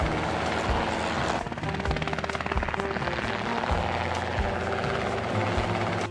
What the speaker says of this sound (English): The roar of the helicopter echoes, shattering the stillness of the plains.